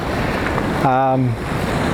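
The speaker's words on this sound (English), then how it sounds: "I'm set up precariously right by where the water's coming in, almost to my feet." Ocean surf rolls onto the shore at Eagles Nest, Inverloch, before sunrise, heard as a steady close wash of wind and water with a short tonal call rising over it partway through.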